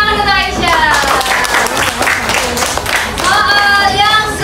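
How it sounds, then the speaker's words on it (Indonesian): Fifth-grade classroom of children clapping for a student, a burst of applause with excited young voices and chatter mixed in and over it. "Oke, tepuk tangan untuk Aisyah."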